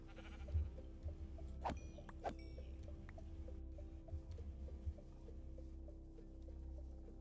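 Sheep in modded Minecraft let out two short bleats close together, over a soft, repeating game tone and light background patter.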